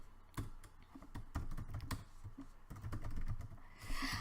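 A password is typed on a computer keyboard: quiet, irregular keystroke clicks in a short burst, close and alone.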